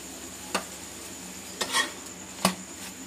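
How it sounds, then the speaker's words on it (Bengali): Quiet, steady sizzle of a paratha frying in a little oil in a pan, broken by three sharp scrapes or taps of a spatula, close by. "এবার ভালো করে ভেজে নিচ্ছি তেল দিয়ে"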